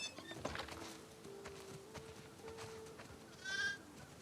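Sheep bleat faintly over farm ambience in The Last of Us Part 2, a steady low background hum with a brief louder bleat near the end.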